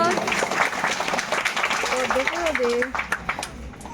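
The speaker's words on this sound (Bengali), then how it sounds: "জোরে একটা হাততালি হয়ে যা সবাই মিলে" An audience at a village prize ceremony claps continuously in a scattered, mid-distance patter, while a voice talks over the applause.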